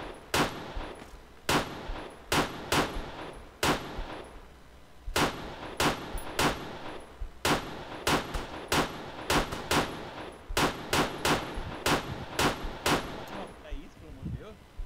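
Rifle shots ring out in Arma 3 during combat in Mali, loud sharp reports fired singly and in quick bursts with short pauses between volleys, and no voices over them.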